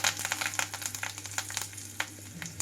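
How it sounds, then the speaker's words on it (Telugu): Mustard seeds, cumin and curry leaves sizzle in hot oil for an egg keema curry, a steady close frying hiss with scattered sharp crackles and pops. "ఆయిల్ అంతా హీట్ అయ్యాక 1 స్పూన్ వరకు నేను ఆవాలు వేసుకున్నాను. అలాగే కొంచెం జీలకర్ర కూడా వేసుకున్నాను."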